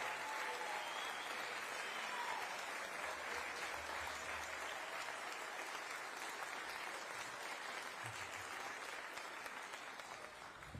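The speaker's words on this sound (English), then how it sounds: "would you please stand for a round of applause?" Sustained audience applause at a school science awards ceremony honoring teachers and administrators, steady and moderately distant, fading slightly toward the end with no speech over it.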